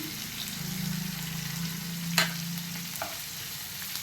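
Green chilies fry in hot oil for a mutton curry, giving a steady close sizzle with a brief stirring scrape partway through.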